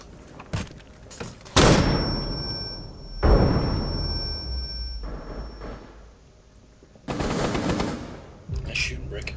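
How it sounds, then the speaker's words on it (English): Gunfire in Rainbow Six Siege during a hostage match on a presidential plane map, heard as several loud bursts of shots that come in separate clusters, each ringing out briefly. A voice can be heard faintly in places. "Nice shooting, Brick."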